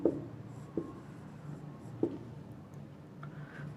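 Pen writing out a maths solution on paper, close and quiet, with a few light tapping strokes and faint scratching over a low room hum, no talk.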